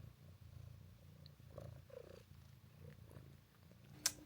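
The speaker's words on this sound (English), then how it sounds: "Nice purring." A cat purrs softly and steadily up close, a low rhythmic rumble, ending with a brief sharp click.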